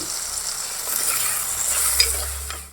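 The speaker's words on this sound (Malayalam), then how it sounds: "അപ്പോൾ ഈ ഉള്ളി നല്ല വൃത്തി വഴറ്റിയെടുക്കണം." Sliced onions sautéing with salt in a pan for a Kerala beef koorka curry, a soft continuous sizzle with a faint scrape or clink near the end, close and steady, no speech.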